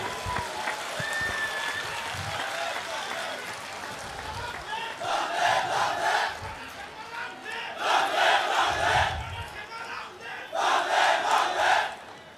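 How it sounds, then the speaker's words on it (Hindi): A large outdoor political mass gathering welcomes the chief minister with bursts of cheering crowd noise and clapping that swell in several waves, separated by quieter murmuring stretches. "सभी साथियों को अनुरोध करूंगा हमारे सीएम साहब के स्वागत में तालियों की गड़गड़ाहट होनी चाहिए।"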